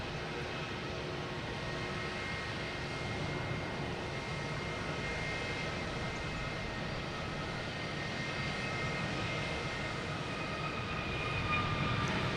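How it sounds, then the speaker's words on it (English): An American Airlines Airbus A321neo jet takes off from Boston Logan, a continuous low even engine roar heard from a distance at steady, fairly quiet level throughout. "American Airlines taking off,"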